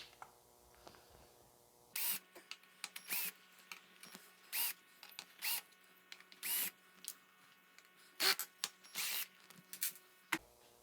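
A power drill whirs in short bursts while installing an Endeavor 2 light kit, starting and stopping repeatedly with brief quiet gaps between, fairly close.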